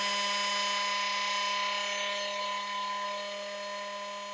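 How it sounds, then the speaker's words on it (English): A brushed RC crawler motor spins on a dyno, giving a loud, steady high-pitched electric whine with strong tonal hum that eases slightly in level over a few seconds, with no speech. "this is the only brush motor I actively run"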